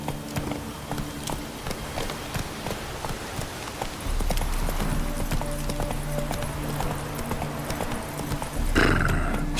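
Roach the horse from The Witcher 3 trots with steady, rhythmic clip-clop hoofbeats, joined briefly by a whinny, over a low game ambience that thickens partway through.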